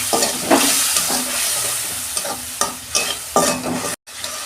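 Ridge gourd and potato curry with tomato is sautéed in a pan, a soft sizzle broken by several distinct scraping stirs of a spoon at irregular intervals, close up and without speech.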